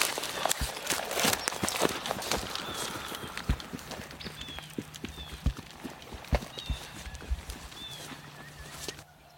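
Someone runs up through the leafy woods after a shot turkey, a string of quick, uneven footfalls crunching nearby with scattered louder steps.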